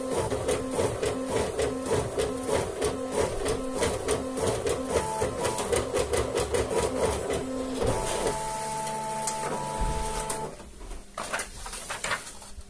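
An Apple Color StyleWriter 2500 inkjet printer feeds paper with a steady, rhythmic mechanical whirring and clicking of rollers and motor, shifting to a different pitched hum and clunks near the end before quieting.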